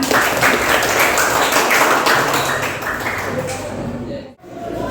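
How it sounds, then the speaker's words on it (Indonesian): A classroom crowd applauds in a dense, continuous wash of clapping that holds steady, then tapers off quickly near the end. "Oke, tepuk tangan untuk kalian."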